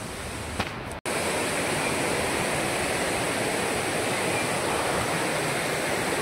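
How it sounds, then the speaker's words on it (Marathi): Water from the Manache waterfall rushes in a dense, steady roar after a brief cut at the start, continuous and even without voices. "हे पाणी आहे ते त्याच धबधब्याचं आहे, मंचे धबधब्याचं"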